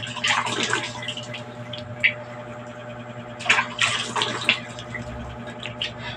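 Water splashing and dribbling from a container while rinsing soap off the face away from a sink, in uneven bursts and drips over a steady background hum.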